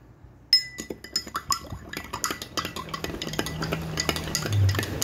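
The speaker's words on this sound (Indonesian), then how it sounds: "Lalu kita aduk" Fifteen grams of salt being stirred into 100 ml of water in a glass: a sharp first clink, then repeated close, ringing taps of a spoon against the glass with a soft liquid swirl underneath.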